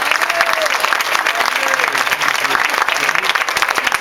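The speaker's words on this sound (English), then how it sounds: "Give him a round of applause." An audience at a town hall meeting claps steadily, dense applause filling the room throughout, with a few voices and cheers mixed into the clapping.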